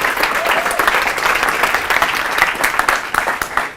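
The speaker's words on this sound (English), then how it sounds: "If we could just give him a round of applause." An audience at an evening lecture breaks into sustained applause, dense and steady clapping from a large crowd at moderate volume throughout.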